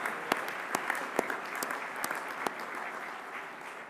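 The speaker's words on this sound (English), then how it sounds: "Let's give our sponsors a hearty round of applause" Audience at a mayors' annual meeting opening plenary session in San Francisco applauding its sponsors, a dense, even patter of many hands with a few sharper individual claps, fairly distant and sustained.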